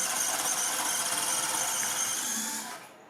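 The small motor of a Panda Hobby Tetra K1 1/18 RC crawler spins its wheels in high gear with a steady, close mechanical whir that fades out just before the end.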